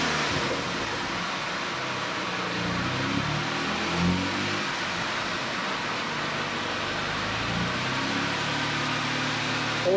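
A 1992 Dodge Stealth R/T twin turbo with a low oil pressure concern drives on a test run, its engine and road noise a steady, broad rumble that stays fairly loud throughout, with slight swells but no voices.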